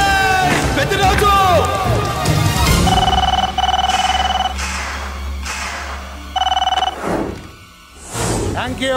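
A telephone rings in a Telugu action film scene, with repeated electronic trills in bursts separated by pauses, mixed in among background score and other effects.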